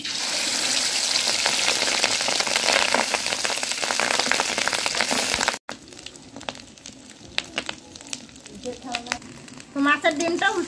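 Rohu fish roe sizzles and fries in hot mustard oil, a loud continuous crackle that cuts off abruptly midway, followed by quieter scattered pops and clinks with brief voice-like sounds near the end.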